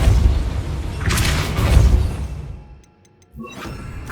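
A Depulso spell is cast in the game Hogwarts 64, a loud whooshing blast that rolls for a couple of seconds, fades briefly to near silence, then returns with another burst of sound.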